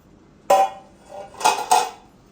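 A lid lifted off a steaming pan of cooked toor dal on a gas stove, a sharp metallic clank followed by two more quick pot-and-lid knocks, close and fairly loud with no talk.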